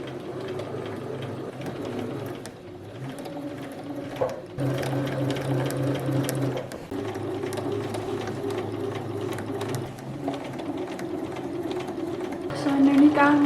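A sewing machine stitches denim jeans being turned into a skirt, running in several bursts of rapid, close mechanical hum and clatter separated by brief pauses, with a person talking quietly over it.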